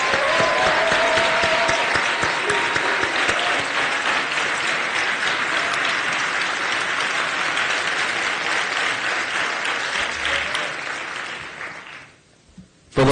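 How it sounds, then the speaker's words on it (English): An audience applauds a city Solid Waste Bureau crew at a mayor's State of the City address in Baltimore, with steady, dense clapping for about twelve seconds before it fades out. "Let's give them a big round of applause."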